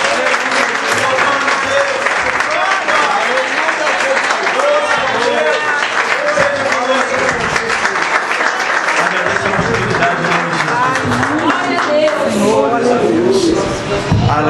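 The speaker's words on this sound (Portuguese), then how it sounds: "Se você crê nisso, querida, aplauda bem." A church congregation claps at length during a sermon, dense continuous applause with scattered shouts and voices woven through, staying loud and full throughout.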